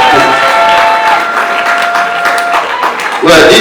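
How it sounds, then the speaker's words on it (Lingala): Audience at a wedding celebration clapping, a dense loud burst of applause with some cheering, mixed with crowd noise and background talk. "Voilà pourquoi il va se rasseoir sous vos applaudissements,"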